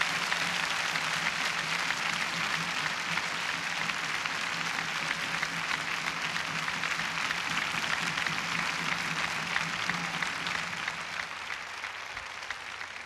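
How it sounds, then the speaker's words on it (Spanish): Church congregation at a Jimmy Swaggart service clapping in praise to the Lord, a steady wash of many hands at moderate distance that holds evenly and tapers slightly at the end, with no talk over it. "Dé un gran aplauso al Señor Jesús."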